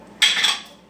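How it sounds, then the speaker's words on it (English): A utensil scrapes and clinks against a dish while Cheese Whiz is mixed in, a single brisk stirring stroke that rises sharply, then fades over under a second. "I'm going to add a little bit of Cheese Whiz and get this all mixed up"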